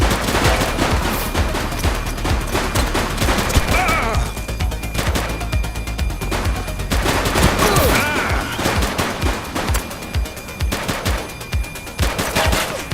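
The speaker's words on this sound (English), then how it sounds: "Shots fired!" Rapid bursts of automatic and single gunshots ring out loud and close in the police video game The Precinct on PS5, nearly continuous for about thirteen seconds with crashing impacts mixed in.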